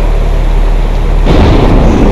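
Thunder rolls as a loud, continuous rumble in a horror video game, surging stronger partway through with no voices over it.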